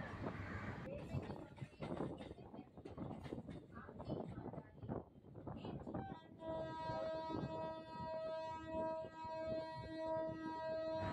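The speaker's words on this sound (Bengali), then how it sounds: "পাশের লাইন দিয়ে লোকাল ট্রেন বেরিয়ে যাচ্ছে নিজের ঠিকানার দিকে" A local train runs past on the adjacent track as the train carrying the listener nears Bardhaman station, a loud broadband rumble and clatter giving way to a sustained tonal whine or horn-like drone that holds to the end.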